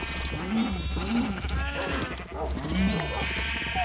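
Repeated sheep bleats from Minecraft with the Better Than Wolves mod, several calls in a rhythmic series over a steady game background, with someone talking alongside them.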